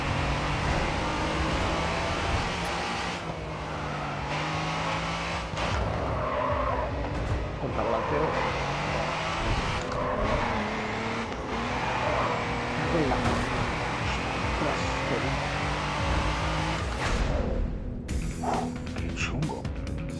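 Racing car in a video game, engine droning steadily with repeated tire squeals and skidding throughout, while a player talks over it and the sound briefly drops near the end.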